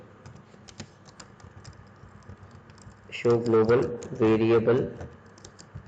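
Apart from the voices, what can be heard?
typing on a computer keyboard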